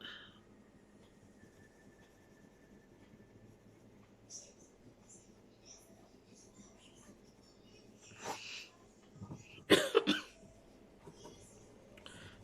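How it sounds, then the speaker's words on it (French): A couple of short, harsh asthmatic coughs from a woman burst out near the end, loud and close, after a stretch of quiet room noise with faint voices. "Désolée, je tousse encore, j'ai encore de l'asthme."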